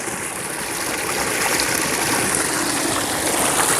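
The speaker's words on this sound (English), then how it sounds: "our client wanted a more muted waterfall that's not too loud." A pondless garden waterfall pours over rocks, giving a steady, fairly soft and muted rush of falling water that stays constant and close throughout with no talking.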